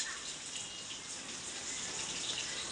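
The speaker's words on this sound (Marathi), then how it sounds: "चला तुम्हाला पाऊस दाखवते मी" Steady rain falls outside a home, a continuous even hiss that stays alone and unbroken throughout, with no voices over it.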